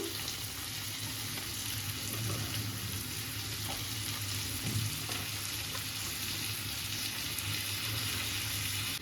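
Lote fish laid onto whole coriander leaves in a hot pan on full gas, giving a continuous even sizzle and hiss, close and steady throughout with no talk.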